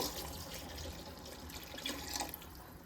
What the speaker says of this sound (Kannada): 6 ಗ್ಲಾಸ್ ನೀರು ಹಾಕೊಂಡಿದ್ದೀನಿ.